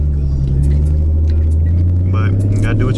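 A V6 Ford Mustang engine rumbles steadily up close, a deep continuous drone with a slight rise near the end, while a person talks over it.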